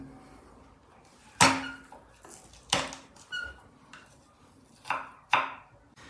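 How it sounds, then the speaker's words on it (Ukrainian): Knife chopping fresh garlic cloves on a cutting board, heard as a handful of sharp, irregular chops spaced a second or so apart, close and fairly loud against a quiet background, with no speech. "Ну і свіжий чесник, як же без нього, я взяв 6 зубчиків, мільчимо й додаємо"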